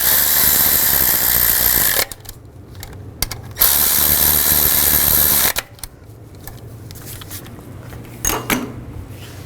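Power tool driving two bracket screws on a Nissan Xterra during a variable valve timing solenoid replacement; two loud sustained whirring bursts of a few seconds each, separated by quiet handling clatter.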